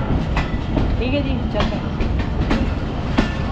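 Subak Raftar Express railcar rolling along tracks in Pakistan, a loud, steady rumble with rhythmic clickety-clack wheel beats and occasional sharp joint clicks, heard from inside, with someone speaking briefly over it.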